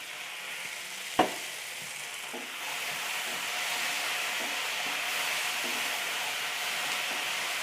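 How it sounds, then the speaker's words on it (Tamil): Tomatoes sautéing in a pan over a low flame for a paneer and green pea gravy, a steady soft sizzle after a sharp clack at the start, with occasional stirring taps. "இந்த தக்காளி நல்லா மேஷ் ஆகிற அளவுக்கு நமக்கு நல்லா வதக்கணும்."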